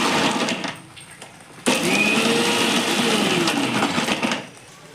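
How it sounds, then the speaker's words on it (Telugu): A mixer grinder chops cucumber into chutney, its loud whirring motor running in two bursts with a short pause between them, and rattling, crunching grinding through each burst. "మళ్ళీ మిక్సీ."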